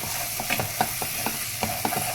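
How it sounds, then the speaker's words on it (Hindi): Spoon stirring Pindi chole with cooked spices in a pan, a series of soft scraping strokes over a steady low sizzle, close and moderately loud with no talk. "एक बार हिला देते हैं।"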